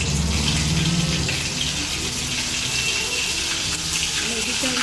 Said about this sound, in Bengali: আর এই দেখুন, এবারে একটা একটা করে আমি তেলে ছাড়বো।